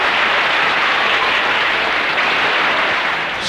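An audience applauds the Rhodes Brothers, a dense, loud, sustained wash of clapping that holds steady throughout and begins to fade only at the very end.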